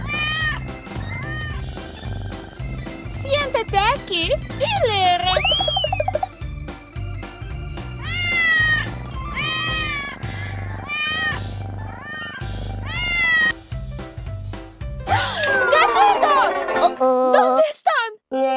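Cats meow repeatedly in high, rising and falling cries over a looping cartoon music bed, with a voice speaking briefly and a burst of overlapping yowls near the end.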